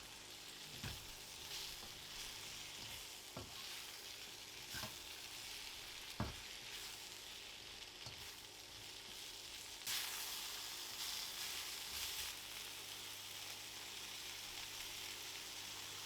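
Beef and peppers fry in a pan for a Chinese-style sweet aromatic beef, a steady sizzle broken by several sharp scraping knocks from stirring, with the hiss growing louder near the end.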